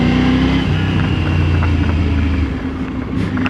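Motorcycle engine droning loud and steady as the rider shifts up through the gears using a new SW-Motech gear shift lever and peg: constant close engine roar with a pitch drop midway where the gear changes.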